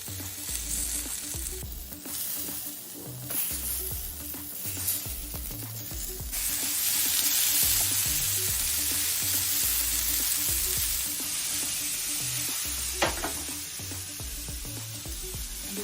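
Vegetables for a vegetable biryani, including eggplant, sizzle and fry steadily on a hot grill pan, a continuous crackling hiss with occasional stirring scrapes, close and fairly loud with no talk.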